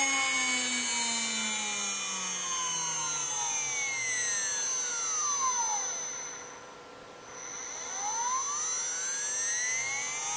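A water-cooled 2.2 kW Chinese spindle driven by a Hitachi X200 VFD winds down from 24,000 rpm with a falling high-pitched whine, dips briefly, then spins back up in the opposite direction with a rising whine.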